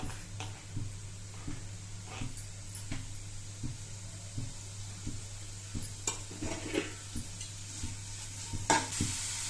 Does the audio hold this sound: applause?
no